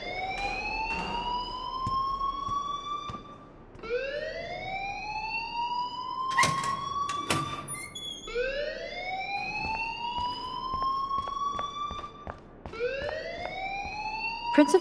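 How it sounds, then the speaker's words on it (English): A school fire alarm in the game Life Is Strange wails in repeated rising sweeps, loud and continuous, with sharp clicks and other game sounds breaking in between the cycles. "please turn off that alarm since that's your job"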